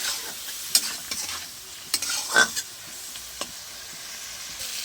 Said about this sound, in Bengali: হালকা করে জল দিয়ে ভালো করে কষিয়ে নেব।